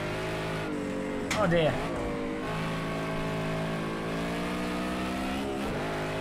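Race car engines in the Project Cars 2 video game during an online race give a steady, close droning whine with a brief rising rev burst early on, and a voice speaks briefly.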